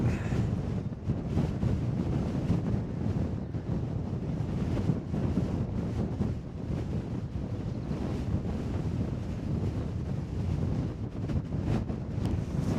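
Strong gusty wind buffets the microphone on a coastal cliff walk, a loud continuous roar with surging rises and dips, likely mixed with distant surf below.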